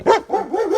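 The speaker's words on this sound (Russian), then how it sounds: "Есть такие собаки, которые лают и лают только на всех." A dog outdoors during a snowstorm gives a quick series of loud, close barks and yips, two or three in a row within a second.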